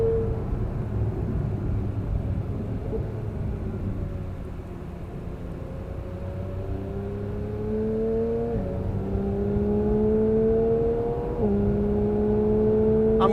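A 2022 Porsche 911 GT3 on the track at Road Atlanta, held flat but lugging near 5,000 RPM. Its steady engine drone climbs gradually in pitch and drops briefly at each upshift, loud and close throughout, with no talking.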